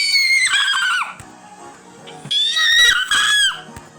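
A person mimics a horse's neigh with two rising-and-falling whinny bursts, shrill and strained, separated by a quieter gap with faint breathy noise.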